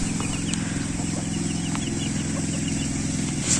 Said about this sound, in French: les petits poussins sont sortis dans le jardin